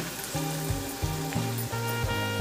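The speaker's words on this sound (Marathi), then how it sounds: "तेलावर परतवून घ्यायचं हा बघा कांदा छान असा परतवून झालेला आहे" Onion sizzling as it fries in hot oil, a steady close crackle running throughout with a faint tonal hum beneath it.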